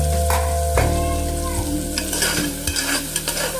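Tomatoes sautéing in a pan for a Tamil-style chicken curry, giving a steady close sizzle broken by a few sharp stirring scrapes and clinks, with no talking.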